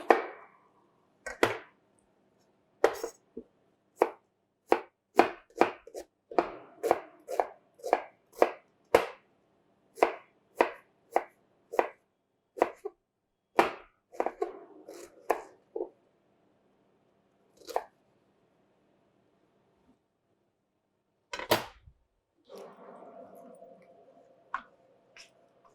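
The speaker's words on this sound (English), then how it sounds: "Do crush garlics by hand" A run of sharp, evenly spaced knocks and crunches from crushing garlic by hand, close and clear, with pauses and a softer rustle near the end.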